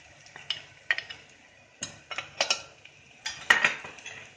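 Spices such as ajwain, cumin, coriander, chilli and turmeric are stirred into fried onions in a pan, giving soft scraping spoon strokes and light clinks in irregular bursts over a faint sizzle.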